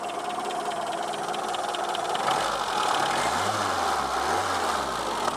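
A Peugeot 205 GL with its TU petrol engine running on ethanol, idling very low with a steady, slightly uneven rumble and a faint wavering low throb, continuous and close.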